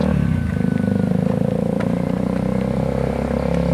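A motorcycle engine runs steadily nearby with a continuous low rumble and slight rhythmic pulsing, heard alone.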